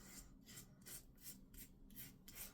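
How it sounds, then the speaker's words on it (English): A wet shaving razor scraping across lathered skin in a steady run of short, evenly spaced strokes, about two per second, close to the ear and soft, with no talking. "now I'm acing it with this razor"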